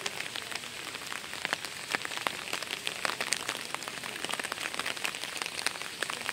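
Steady rain pattering on a river during fishing, a dense hiss of countless drops close by, unbroken for the whole stretch with no voices.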